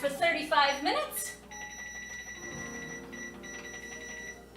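A kitchen timer is set for a zucchini pie baking in a home oven, giving a steady electronic beeping or ringing tone that holds on after some brief talk at the start.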